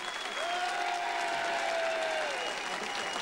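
A large crowd at a tribute concert gives sustained applause for Muriel Robin, an even, continuous rush of clapping with a long whistle sliding over it partway through.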